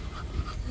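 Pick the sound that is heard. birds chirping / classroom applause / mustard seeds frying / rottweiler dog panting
rottweiler dog panting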